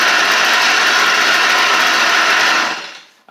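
A Stihl FS38 string trimmer with a freshly swapped carburetor runs at a steady high-pitched idle, loud and close, holding even for nearly three seconds before cutting out abruptly.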